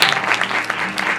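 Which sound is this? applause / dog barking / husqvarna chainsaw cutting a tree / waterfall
applause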